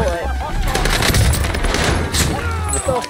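Dense bursts of rapid automatic gunfire and overlapping shots in the video game Warzone, loud and continuous, with players' voices talking over the shooting.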